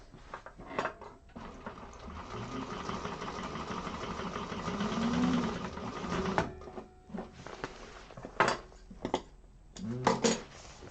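A sewing machine runs in bursts, stitching a seam with less than the full seam allowance in a sewing class. The motor hum is moderately loud and near, stopping and starting with clicks and handling noises, and a person speaks between runs.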